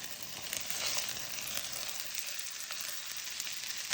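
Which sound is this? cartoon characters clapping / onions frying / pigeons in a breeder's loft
onions frying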